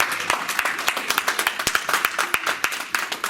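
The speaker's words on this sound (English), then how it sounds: "I'd like for you guys to give yourselves a round of applause for what you're doing today." A small audience at a women's networking conference gives a round of applause: close, fairly sparse clapping with distinct individual claps in a quick, uneven rhythm for a few seconds.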